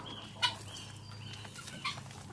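Chickens in a coop give two short clucks, one near the start and one toward the end, faint over a steady low background hum.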